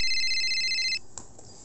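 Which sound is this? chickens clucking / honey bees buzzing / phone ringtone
phone ringtone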